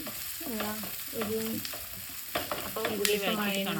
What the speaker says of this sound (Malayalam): അപ്പോൾ ഉള്ളി വഴറ്റിയിട്ട് കാണാം